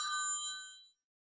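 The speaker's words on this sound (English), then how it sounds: "My phone's ringing over here." Mobile phone ringtone, a short bright chime of several tones fading out quickly, heard once and alone before silence.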